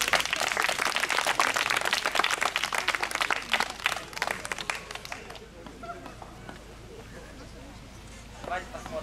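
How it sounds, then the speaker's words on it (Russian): Lively applause from the audience at a playback theatre show rings out crisply for about five seconds, then fades into scattered claps and quieter room sound with some talking. "Аплодисменты Кате."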